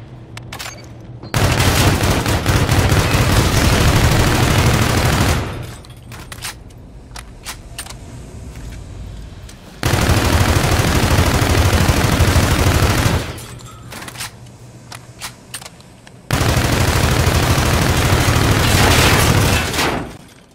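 Karma 45 submachine gun firing in Call of Duty: Infinite Warfare, three loud sustained full-auto bursts of several seconds each separated by quieter gaps, close and dense with no talking.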